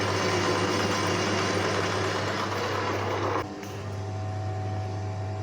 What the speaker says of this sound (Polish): Chodzi na silniku od dojarki, wiertło 45 mm